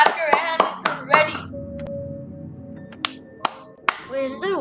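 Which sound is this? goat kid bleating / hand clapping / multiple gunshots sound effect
hand clapping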